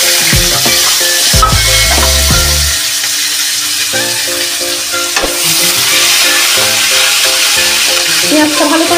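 Chopped onion frying with cumin seeds in a hot pan, a steady close sizzle with occasional stirring scrapes, with a voice talking over it in places.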